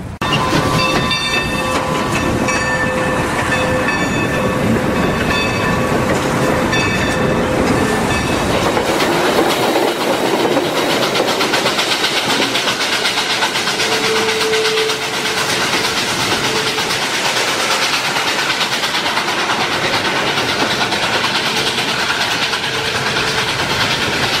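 A train rumbles and hisses through a station in Cork, with steady mechanical noise, faint clicking and a few tonal whines in the first half before a broader rushing roar.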